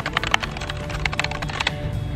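A noisy computer keyboard clatters with quick, irregular keystrokes during gaming, clicking up close over a low steady hum.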